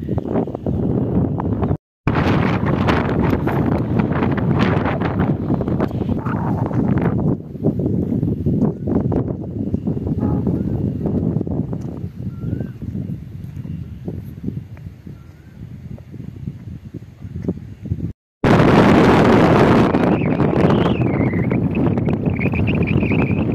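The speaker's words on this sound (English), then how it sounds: "It's really windy. Super windy up here." Strong wind buffets the microphone on a steep hiking trail, roaring in continuous loud gusts that swell and ease throughout, with a brief cut near the start and a harsher blast toward the end.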